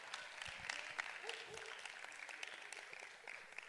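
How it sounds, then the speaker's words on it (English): A crowd at a speaking event applauds a man being honored, steady clapping from many hands in a room, fairly even throughout with scattered louder claps and some background voices. "Let's give a round of applause to this king right here, man."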